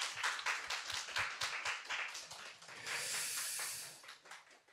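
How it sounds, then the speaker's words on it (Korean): An audience at a Korean rare-disease charity event applauds after a woodwind ensemble performance. The clapping is steady and fairly faint, heard from a distance, and settles into a hissy wash before it dies away. "박수 부탁드리겠습니다"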